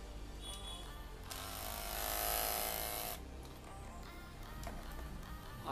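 A Philips Pro Skin beard trimmer, Series 1000, buzzes with a high electric whine for about two seconds, rising out of quiet clicking and handling noise, close and fairly loud.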